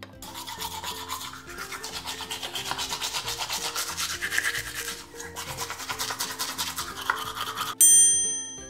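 Rapid, steady scrubbing of a toothbrush runs for several seconds over light background music, ending with a bright chime.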